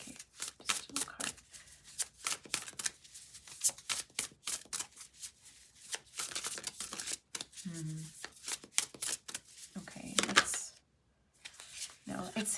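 Tarot cards shuffled and handled during a pick-a-card love reading, repeated crisp riffling and flicking bursts with short gaps, close and fairly loud, with a voice speaking briefly between them.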